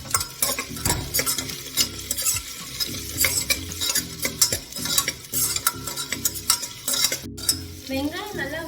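Sliced large onions fry in hot oil for a vegetable biryani, making a dense, continuous close sizzle broken by frequent scraping stirs and clinks of a spoon against the pan.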